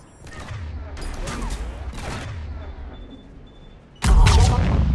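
Gunfire in the sci-fi video game Mass Effect 3, bursts of weapon fire and booms at mid distance, then a loud, sudden barrage erupts near the end.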